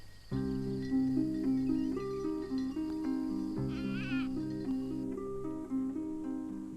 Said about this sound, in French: Pourquoi la petite Blanchette bêle plus tristement que les autres chèvres?